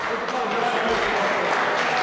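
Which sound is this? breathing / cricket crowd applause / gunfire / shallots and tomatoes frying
cricket crowd applause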